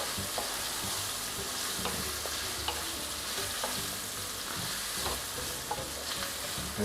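Pork frying and being stir-fried in a pan over medium heat, a steady close sizzle broken by repeated soft scraping and stirring clicks, with no talking.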